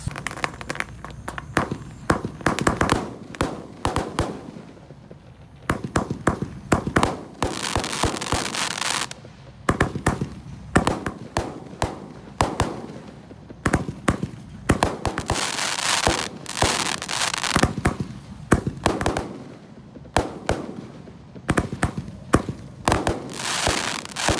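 Jumbo Roman candle fireworks set off on a Ramadan night, a dense, continuous barrage of loud cracking bursts and pops firing in quick succession for the whole stretch, close by and with no voices.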